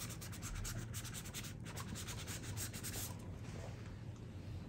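Paintbrush scuffing acrylic paint across a canvas while painting fluffy clouds: soft, continuous rapid rubbing strokes, faint and close, steady throughout with no speech.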